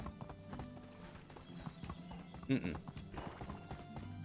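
Horse splashing and sprinting straight across a deep lake in the medieval survival game Medieval Dynasty, steady hoof clatter with a brief whinny midway, fairly faint under game ambience and talk.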